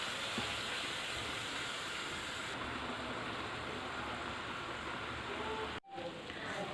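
Minced meat frying in oil for a Shinwari keema karahi, a steady close hiss of sizzling that runs evenly, broken by a short moment of silence near the end.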